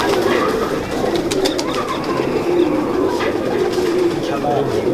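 Pigeons coo continuously nearby in soft, rolling low calls, with someone talking over them throughout.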